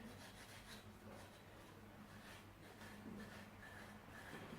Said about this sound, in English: I'm just going to just give the sculpture a bit of a rub down with some steel wool